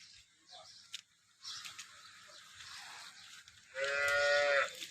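Distant cattle sounds and faint background voices at a local cattle market in Banaskantha district, Gujarat, then a cow lets out one loud, drawn-out moo near the end.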